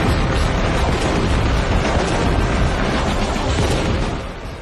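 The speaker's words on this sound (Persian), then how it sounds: "هویتزر با قوس بیشتری شلیک می‌کند" Howitzer artillery fire, a dense, loud, sustained barrage of booming blasts and rumble that fills the whole clip and eases slightly near the end.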